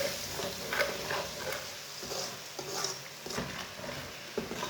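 Curry of potato and spinach being stirred in a pan over raised heat, soft scraping and shuffling strokes over a low sizzle, close and fairly quiet with no speech.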